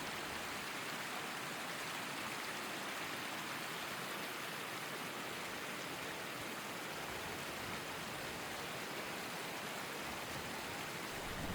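A mountain stream rushes steadily near the village of Kazbegi in Georgia: a dense, continuous hiss of flowing water, close and loud throughout with no pauses.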